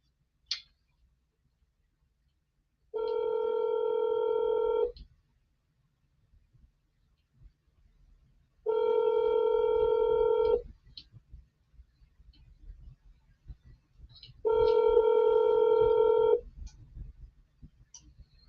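An outgoing telephone call rings out as three separate, evenly spaced ringback tones, each a steady buzzing tone about two seconds long, with quiet pauses and faint clicks between them.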